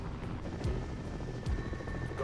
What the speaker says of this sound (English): Hailing helicopter formation ahead.